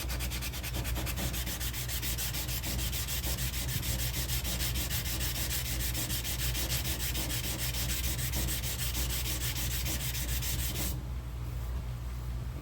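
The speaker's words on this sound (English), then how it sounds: "sand a long time to take any of the engravings out with a block sander" Steady, continuous abrasive rubbing of a block sander worked across a firearm's engraved metal surface, close and unbroken for most of the stretch before cutting off near the end.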